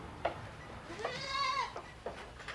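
Sheep in a farmyard letting out a single wavering bleat, moderately close, amid faint background noise and a few knocks.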